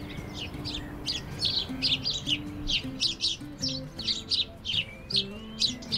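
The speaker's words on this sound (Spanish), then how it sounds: "Nos llamó la atención el canto constante de los pájaros." Birds sing constantly on the grounds of a hotel in Morocco, with repeated bright chirps and short tweeting phrases arriving in quick bursts over a low soft background, fairly close and with no talking.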